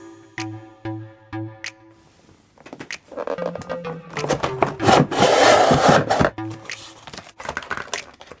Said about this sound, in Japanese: それでは開封していきたいと思います。